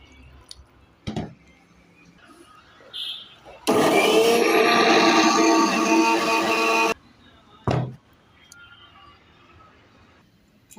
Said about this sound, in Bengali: এগুলো সব গ্রাইন্ডারে গ্রেট করে নেব